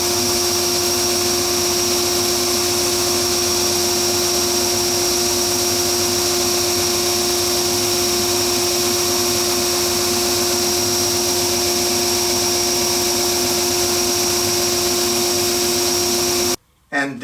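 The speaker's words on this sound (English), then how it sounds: "I actually decided against the scroll saw, and we'll just do it completely here on the sander." A belt sander rounds the outside corners of a wooden trinket corner shelf, a loud, steady motor whine with rushing abrasive hiss running unbroken for about sixteen seconds before stopping abruptly.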